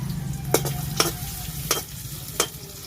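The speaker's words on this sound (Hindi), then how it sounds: "चलिए अब प्याज डालते हैं" Onions frying in hot oil, a soft steady sizzle broken by four sharp scrapes of a spoon stirring against the pan, close by, over a low hum.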